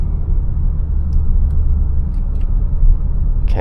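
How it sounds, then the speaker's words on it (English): A 2025 Infiniti QX60 VC-Turbo's four-cylinder turbo engine in sport mode and third gear, heard from inside the cabin as a loud, steady low rumble with a constant droning hum. "that's a 4-cylinder turbo if I've ever heard one"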